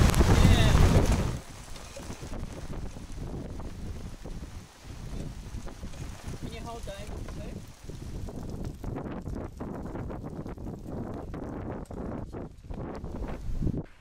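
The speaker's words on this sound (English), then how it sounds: "And very windy, a bit chilly, not really expecting this cold weather for February." Strong February wind buffets outdoors by a lake on a chilly day, a loud gust at the start giving way to steady rushing noise with heavy microphone buffeting, while a voice talks over part of it.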